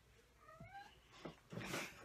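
A cat shut out of a room meows plaintively behind the door, a drawn-out wavering cry followed by a couple of shorter, louder yowls, all fairly faint and distant.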